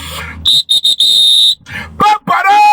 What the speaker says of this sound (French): Je fais sortir mon sifflet.